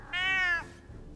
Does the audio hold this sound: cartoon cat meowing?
yes